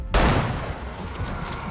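Rapid gunfire and explosions in an action scene from The Last of Us TV series: a sharp blast opens, followed by a sustained, rumbling barrage of shots with no voices.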